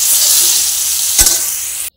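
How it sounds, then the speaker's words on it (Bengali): Eggplant frying in a pan sizzles in a steady, loud, continuous hiss, with a brief stirring scrape near the middle before it cuts off abruptly. "এই যে বেগুনটাকে ভেজে নিচ্ছি প্রথমে"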